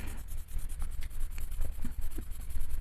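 A soft Derwent coloured pencil scratches and rubs across paper in quick, light strokes with faint taps, quiet and close, no talking.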